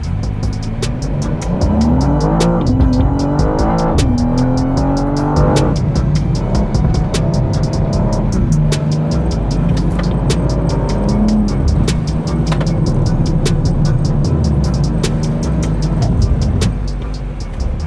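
A new BMW GT4 race car pushing through a lap, its engine loud and close as it revs up through the gears and drops back down, with tire squeal and steady road roar throughout.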